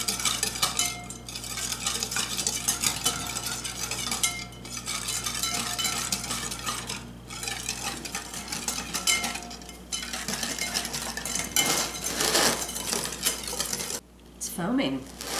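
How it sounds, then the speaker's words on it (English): Applesauce cake batter with sugar and seasonings being whisked in a bowl: steady, close scraping strokes against the bowl, with a few brief pauses in the rhythm. "May have to go back to whisking."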